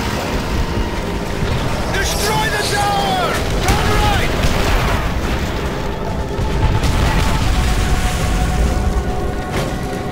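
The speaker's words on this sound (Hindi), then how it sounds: "बम पड़ रहा है।" Explosions from bombs and tank shells in the Call of Duty World at War battle mission Blood & Iron, booming continuously beneath dense combat noise and whistling sounds, with a voice talking over the chaos.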